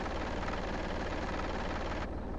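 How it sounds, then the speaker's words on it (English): A loud mail truck engine runs with a rough, rapid low throb, steady and close, cutting off sharply near the end. "A very cool sound to it, actually, this engine."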